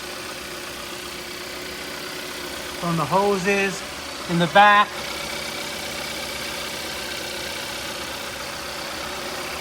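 A Hyundai or Kia 1.6L car engine, newly installed, idles in a steady low hum throughout. Someone speaks briefly partway through, and the engine keeps running under his voice.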